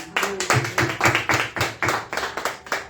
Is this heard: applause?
yes